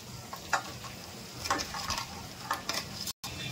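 Spices, turmeric and boiled potatoes sautéing in a pan for Surat-style Rander aloo puri produce a soft, close sizzle broken by a few quick spatula stirs, with a brief moment of silence near the end.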